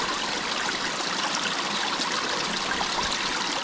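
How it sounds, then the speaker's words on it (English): Spring water runs steadily near a cistern in Haiti, a close, continuous broadband rush and trickle with no pauses and no voices. "there's another branch of the spring right over here"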